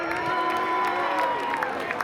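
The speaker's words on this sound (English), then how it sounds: "How about a round of applause for Dave Darling?" A speedway crowd at a Pro Stock race cheers and whoops steadily, with scattered clapping mixed into a constant roar of voices.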